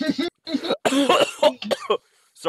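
A person with a cold coughs in a quick run of harsh, close bursts, with some throat clearing and a vocal sound between them, then a short pause before another cough.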